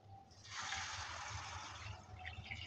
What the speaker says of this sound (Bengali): চিনিটা দেওয়ার পর এবার দিয়ে দিচ্ছি জল।